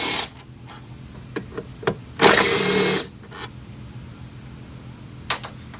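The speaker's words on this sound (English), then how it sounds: "let me take off those 4 bolts," Short close bursts of a power tool zipping out the four bolts on a windshield wiper transmission of an Infiniti G35 or Nissan Z, with one longer whine between faint clicks and handling noises.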